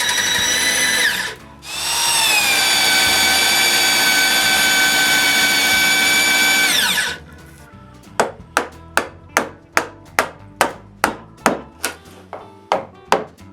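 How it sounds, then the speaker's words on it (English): A power drill bores a mortise hole at an angle into a wooden sawhorse beam, whining loud and steady for several seconds after a short first burst, then falls silent before a run of about a dozen sharp, evenly spaced knocks. "the first hole, which is drilled at the braces angle"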